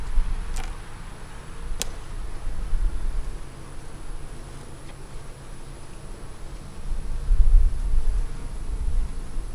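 Steady buzzing of honeybees from an open hive frame holding honey, brood and larvae, a continuous close drone that swells and fades, with a couple of faint ticks.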